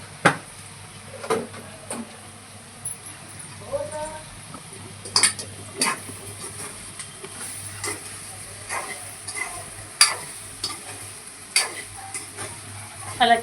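Chicken fried rice stir-fried in a hot pan, with a steady low sizzle and a series of sharp spatula scrapes and clinks against the metal at an irregular rhythm, close up.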